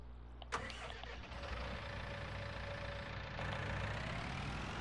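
A John Deere 6M tractor engine starts in Farming Simulator 19 with a sharp crank and catch, then settles into a steady, close diesel idle.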